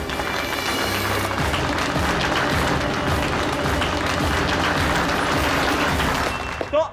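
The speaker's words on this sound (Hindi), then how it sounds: "जोरदार तालियां अनु के लिए।" A studio audience applauds a contestant named Anu on a television show, dense continuous clapping at moderate volume that holds steady for several seconds and tapers off at the end.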